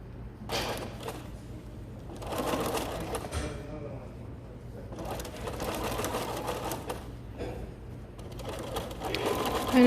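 A sewing machine runs a wide 5.5 mm zigzag stitch along the edge of Greek key drapery trim, humming in several bursts with short pauses between them, close by and fairly steady.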